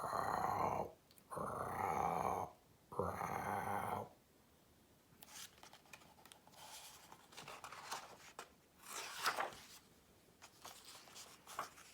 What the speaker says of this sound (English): A pickerel frog growls deeply while floating in water.